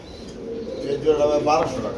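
Pigeons cooing in a market where pigeon pairs and squabs are sold, soft repeated coos mixed with bird calls over a busy murmur of background voices.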